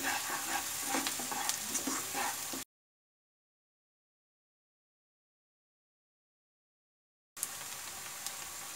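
Ground ginger fries in oil in a pan over medium flame for a vegetable Manchurian, a dense close sizzle that cuts to total silence midway before resuming.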